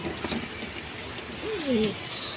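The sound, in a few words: pigeons cooing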